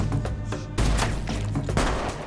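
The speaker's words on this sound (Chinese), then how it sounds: "一场激烈的枪战在树林中打响" A fierce gunfight in a forest, with rapid gunshots cracking out in close bursts over a dense, rumbling low background, loud and without speech.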